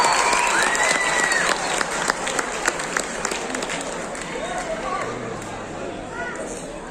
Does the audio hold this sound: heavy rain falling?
no